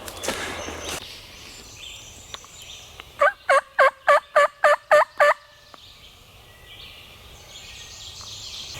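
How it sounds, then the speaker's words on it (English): A wild turkey gobbles in dark timber: one rapid burst of about eight loud, rattling gobble pulses stands out clearly against quiet woodland background. "I finally just heard him gobble a second time"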